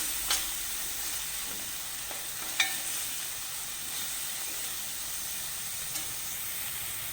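A steady, soft sizzle of masala paste frying in hot oil on low heat for a Kerala-style fish curry, with an even hiss throughout and a few faint clicks from the pan.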